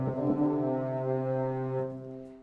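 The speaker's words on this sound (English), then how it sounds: "I can manufacture a bassoon section which includes a contra" A low, sustained reed chord from a sampled bassoon section with contrabassoon, rich in harmonics, held steady for a couple of seconds before fading slightly, no talk.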